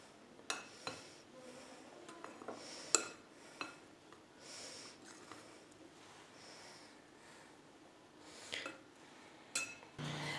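A spoon clinks and scrapes against a bowl while wheat flour is mixed, scattered light taps and chinks at irregular intervals, quiet and close with a soft background hiss.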